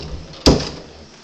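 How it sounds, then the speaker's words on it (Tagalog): A door shutting inside a house with a single sharp close-range thud, then a short fading room echo, with no talk. "sarado lagi ang pinto."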